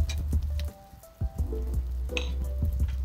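Onions hitting hot oil with sautéed garlic for a pork chop suey, crackling at moderate level with a low steady background hum and a few clinks of stirring.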